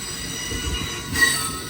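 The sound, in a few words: Amtrak Coast Starlight train passing with squealing wheels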